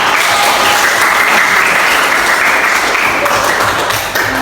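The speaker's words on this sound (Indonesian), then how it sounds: "Luar biasa, kasih aplaus." An audience at an indoor session or class claps together, a loud, dense, steady burst of applause lasting a few seconds before tapering at the end.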